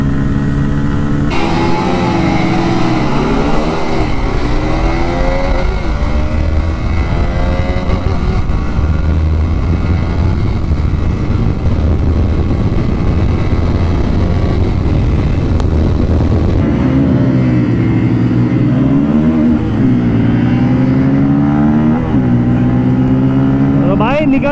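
Several sport motorcycles, including a Honda CBR 250R, Pulsar N250, Yamaha R15M and Pulsar F250, roar continuously during a drag race, with loud engine drone and shifting revs. Wind buffeting and onboard noise sit under the engines.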